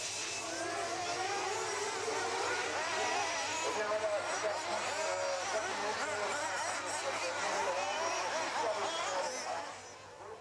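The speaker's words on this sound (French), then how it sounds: "Cette voiture, c'est celle de Thierry Clerc, le vice-champion suisse 86" Racing cars at a 1986 World Cup event in Grenoble, an engine roaring and shifting pitch as it passes at a distance, continuous for about ten seconds, with crowd chatter and a commentator talking over it.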